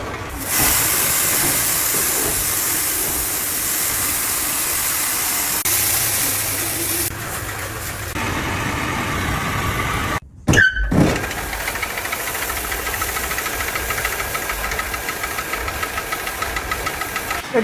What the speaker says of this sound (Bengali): এটা হচ্ছে রোস্টার মেশিন